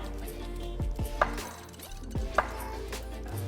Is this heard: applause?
no